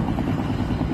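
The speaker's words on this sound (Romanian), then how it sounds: "Este elicopterul României care a venit în ajutor." Romanian firefighting helicopter flying overhead during wildfire water drops, a steady low rotor drone holding evenly loud throughout with no talk.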